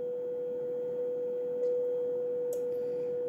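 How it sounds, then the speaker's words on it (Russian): A steady pure beat tone from an Si47xx-chip radio receiver under test, held constant and clear for several seconds with a couple of faint clicks near the end. "сигнал довольно хорошо слышно, значит, сделал расстройку под комфортный тон"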